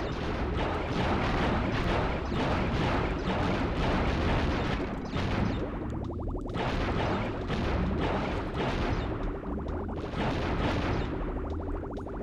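Underwater shooting in Crash Bandicoot 3: Warped: a dense, loud, unbroken stream of rapid blasts and pops that runs the whole time with no voice over it.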